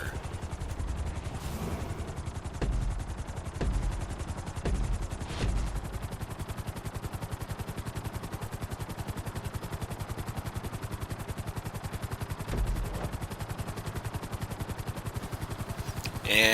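A Frogger helicopter in a video game race to the finish line, its rotor a steady, fast thudding pulse that holds throughout at moderate level, with a few brief bumps along the way and no voices.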